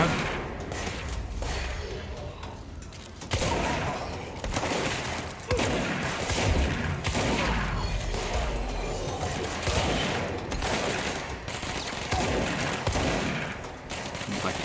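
Repeated booming shotgun blasts in the video game Control, fired in irregular bursts across a busy, loud combat scene with steady background game noise.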